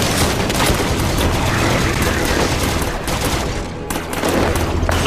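A plasma caster firing during combat in the video game Halo 5: Guardians, heard as a dense, loud barrage of continuous weapon fire and blasts that fills the whole stretch.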